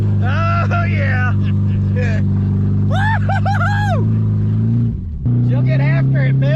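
An abandoned 1988 Ford Thunderbird Turbo Coupe, run after sitting 20 years, drones loudly and steadily as it drives, with a brief dip near the end before the engine note picks back up, while people talk excitedly over it.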